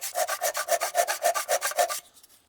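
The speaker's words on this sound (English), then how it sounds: "This timing tab is really rusty. I don't know what's 0, so let me get some sandpaper and fix that real quick." Sandpaper rubs back and forth over a rusty metal timing tab in about a dozen quick, even strokes, close and clear, then trails off into a few faint scrapes.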